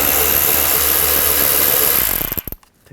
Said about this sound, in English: Now we're going to take these two bolts out.